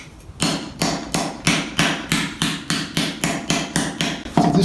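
A specialized hammer strikes a steel armor sabaton resting on a wooden stump, landing about fourteen sharp, ringing blows in a steady, even rhythm, loud and close with no talking.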